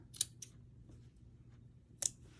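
Scissors trimming a fabric bow for a craft pumpkin: a few crisp, quiet snips, two close together near the start and another sharp cut a second and a half later, over faint background hum.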